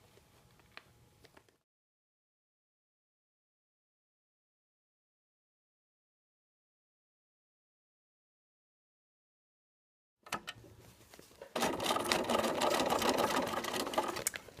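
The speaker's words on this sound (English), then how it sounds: "We're top stitching the bag, the top of the bag" A sewing machine top stitches the upper edge of a fabric car trash bag, starting with a short burst, falling silent for several seconds, then running again in a steady, loud mechanical whir.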